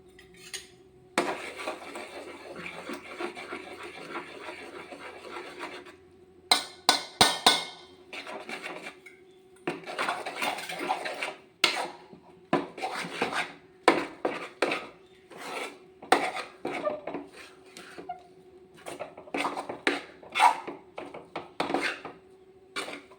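Flour poured into a pot of boiling water over a low flame, then stirred with a utensil: a soft steady rush gives way to repeated scraping clatters and knocks against the pot.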